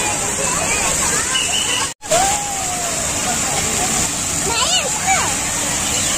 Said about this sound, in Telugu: వాటర్ ఫౌంటైన్స్ గట్రా ఆన్ చేశారు.